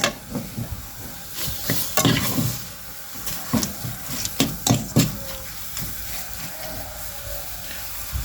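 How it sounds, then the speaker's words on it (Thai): Field rat meat is stir-fried in a pan over a gas stove. A continuous sizzle runs under repeated scraping and clacking strokes of the stirring utensil, which come in irregular clusters and are fairly close and loud. "ขัวให้มันสุกก่อนนะครับ"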